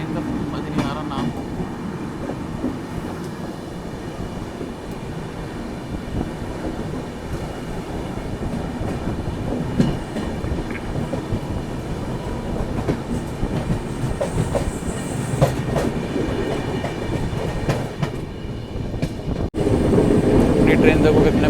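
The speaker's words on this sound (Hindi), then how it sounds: "तो यहाँ से एक और ट्रेन क्रॉस कर रहे हैं" A Humsafar Express train between Delhi and Prayagraj rumbles along steadily with rhythmic clatter while another train passes alongside, the sound swelling louder near the end.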